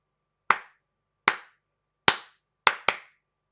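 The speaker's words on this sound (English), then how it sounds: "repeating the rhythm that I clapped" Five crisp, close hand claps form a simple rhythm, evenly spaced at first and then ending in two quick claps, with silence between each clap.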